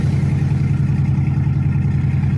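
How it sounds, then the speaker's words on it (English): A truck engine with straight-pipe exhaust and no back pressure rumbles steadily at idle with a deep, throaty, unmuffled exhaust drone, close and constant throughout. "there's nothing but straight pipes on this truck"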